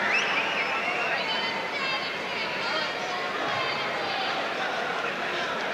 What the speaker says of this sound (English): And a very excited crowd here